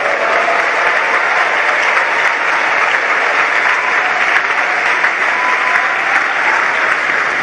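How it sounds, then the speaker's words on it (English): A large church congregation applauds loudly and steadily throughout, a dense continuous wash of clapping at a crossover service with no pauses or voices standing out. "Give the Lord a big round of applause."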